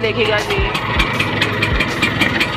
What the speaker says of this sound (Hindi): अभी मैंने स्कूटर स्टार्ट करे